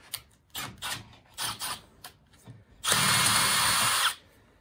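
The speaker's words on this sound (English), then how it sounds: "You're drilling through some pretty thick stuff, so, and we're using a pretty dull bit here" A power drill with a dull bit bores through thick material, likely a wall stud, while a lightbar mount is installed. A person talks at first, then the drill whines loudly and steadily for over a second before stopping abruptly.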